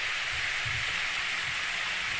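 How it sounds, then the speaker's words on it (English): Steady rain in the video game Steins;Gate, a continuous even hiss of falling drops with a low rumble underneath, heard alone with no talking. "Hey, it's raining."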